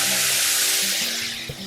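Very hot sugar syrup poured into semolina roasting in oil in a pan for suji halwa, giving a loud, dense hiss and sizzle that eases off slightly toward the end.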